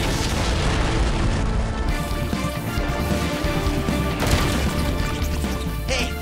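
A Beast X cannon from Power Rangers Beast Morphers fires with a loud smash and explosive boom. It sits inside a dense, continuous action mix and stays loud for the whole stretch.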